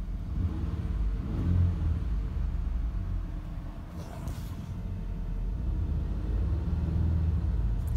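A 2017 Ford Explorer Platinum idles in cold weather with a steady low engine rumble, a slight swell in the middle, heard up close with no talk.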